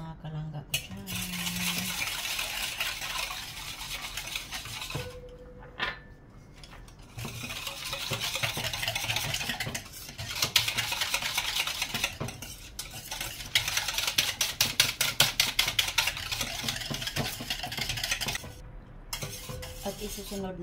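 Sugar and yeast mixture for croissant dough is stirred in a bowl, with quick, repeated scraping utensil strokes arriving in close bursts separated by short pauses.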